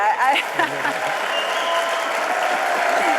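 Dense, steady applause from an audience at a car world premiere fills the space, loud and continuous, with a voice briefly audible over it at the start.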